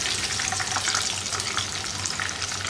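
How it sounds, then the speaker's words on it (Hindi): Chicken bites deep fry in hot oil, a dense, loud, continuous bubbling hiss with no break across the short stretch. "इसको फ्राई कर लेंगे।"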